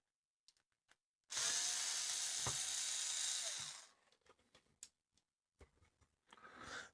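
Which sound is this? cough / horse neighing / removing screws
removing screws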